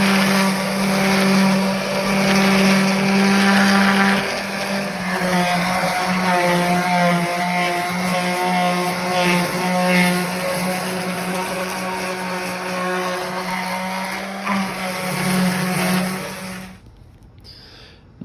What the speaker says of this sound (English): we'll use the 80 grit sandpaper and the sander to cut all these down